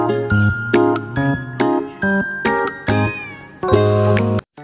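A cat meows repeatedly in short, loud, tonal calls, about eight in quick succession with brief gaps, close by and without any talking.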